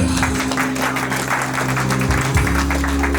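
A wedding congregation in a church applauds, steady dense clapping under a sustained organ or keyboard tone, moderately loud throughout.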